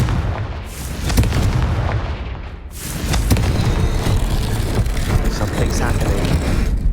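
A Confringo explosion spell bursts in Hogwarts Legacy, loud booming blasts with a sharp crack near the start and a second impact around three seconds, followed by sustained rumbling battle noise.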